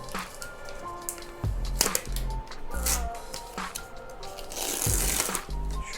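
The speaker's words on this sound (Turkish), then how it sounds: "Güç kablosunun poşetini de şuradan açalım." A plastic bag around a MacBook Pro power cable is opened during an unboxing, giving several seconds of close, crinkling and rustling plastic with sharp crackles and soft thumps.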